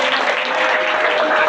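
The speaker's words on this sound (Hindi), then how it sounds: "ताली बजाओ प्लीज छोरे के लिए।" Students in a classroom applaud a classmate with dense, brisk clapping that holds steady throughout the short burst.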